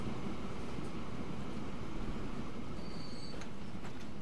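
Trains run in the Transport Fever 2 simulation, a steady rumbling rail noise with faint wheel squeals near the end, continuous and unbroken throughout.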